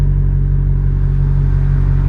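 A Maserati GranTurismo engine idles with a steady, deep, even rumble and faint pulsing, close and loud, without fluctuation and with no talk over it.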